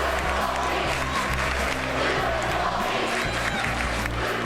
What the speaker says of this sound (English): That's when the crowd began to chant.